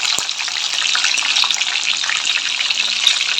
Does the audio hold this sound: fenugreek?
yes